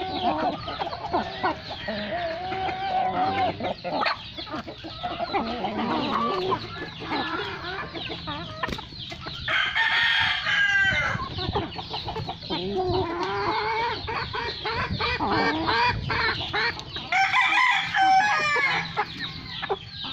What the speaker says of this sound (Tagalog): Kalamitas mga manok ito, mga balbasirado ito eh